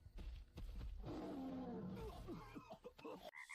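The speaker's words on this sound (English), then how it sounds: "His chronic bronchitis makes his roar rather weak." An old beast in an animated story gives a weak, breathy roar that swells into a low rumbling growl and then breaks into ragged grunts, fairly quiet overall.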